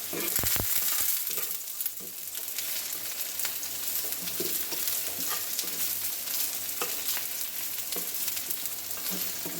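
Banana pieces frying in oil until reddish, a dense continuous crackling sizzle that holds steady and close, with faint stirring and no voices.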